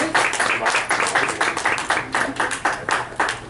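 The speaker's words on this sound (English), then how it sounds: "Let's give these two a round of applause." Audience applause at an open mic magic night, a steady burst of many hands clapping with rhythmic pulses throughout, fairly close and loud.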